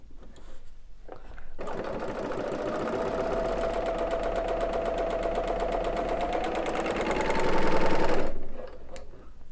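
A Bernina L850 serger runs in one continuous rapid stitching burst for several seconds while piecing quilt fabric together, speeding up slightly near the end, then stops.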